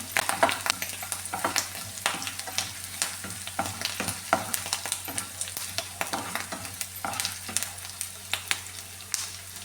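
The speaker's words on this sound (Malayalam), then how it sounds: "നല്ല രീതിയിൽ എണ്ണയിലിട്ട് ഒന്ന് ചൂടാക്കി എടുത്തിട്ടുണ്ട്" Ginger and curry leaves fry in hot oil in a pan while being stirred for a chutney, giving a continuous close sizzle broken by repeated scraping and stirring clicks, with no voice.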